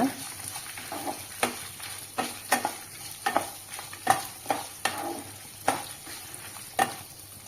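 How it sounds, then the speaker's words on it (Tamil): Curry leaves, ginger and garlic fry in hot oil with a constant close sizzle, while a spoon scrapes and taps the pan in a regular rhythm. "இப்போ எல்லாமே நல்லா கலந்து கொடுங்க"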